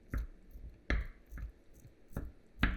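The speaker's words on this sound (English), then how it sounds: "we're going to cut 7 ounces of cooked pasta" Knife chopping cooked pasta into small pieces on a board, about five separate soft, damp cuts spaced unevenly, close and fairly quiet with no talking.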